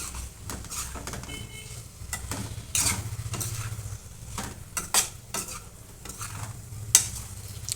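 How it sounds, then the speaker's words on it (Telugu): A ladle stirs a mixed potato, eggplant and meal-maker curry in a pan, giving soft scraping strokes and light clinks over a gentle low sizzle. "ఇంత అయితేనే ఈక్వల్గా కలుపుకోవడానికి మంచిగా వస్తుంది"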